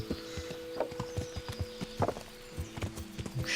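Horse hooves clip-clop in a brisk, even rhythm while riding through town in the video game Kingdom Come: Deliverance, heard close and clear against a light background hum.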